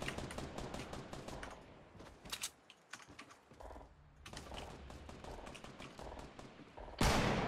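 Gunfire in a video game battle royale match: rapid bursts of shots and clicks in quick clusters, broken by short pauses, ending in a louder blast.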